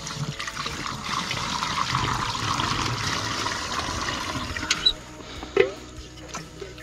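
Water splashes and pours from a thrown pail drawn up for a rural cistern, a continuous rushing spill that fades into drips and a few sharp knocks near the end, with no talk.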